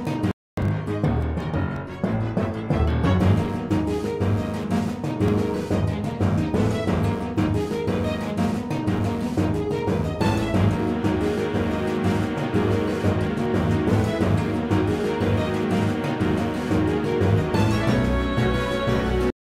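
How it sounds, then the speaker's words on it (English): A looping battle music track from an RPG Maker video game, a dense, busy synthesized arrangement with steady driving rhythm and repeating melodic figures playing without pause for nearly twenty seconds. "Sonali's part sounds a little bit weird, and it's also quite repetitive"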